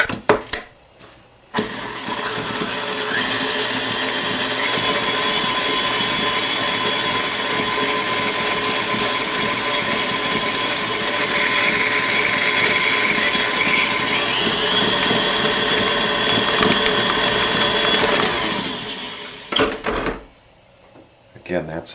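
An electric mixer beats egg yolks into chocolate thumbprint cookie dough, a loud continuous whirring drone that runs for about eighteen seconds between brief clicks at the start and end.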